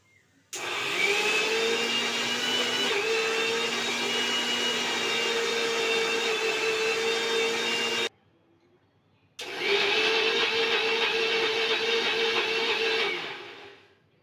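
Mixer grinder grinding a paste for a puffed rice snack, a loud steady whine that stops briefly, then runs again before winding down.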